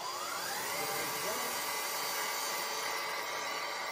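A food processor whirs at high speed, blending walnut pesto with coconut cream, a loud steady motor drone with a slight rise in pitch, continuous throughout.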